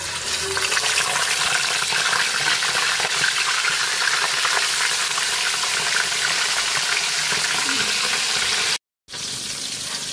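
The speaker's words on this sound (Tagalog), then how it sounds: "Magpiprito na tayo ng isda." Tilapia fries in hot oil with a loud, continuous crackling sizzle close by. The sound drops out for a brief moment near the end.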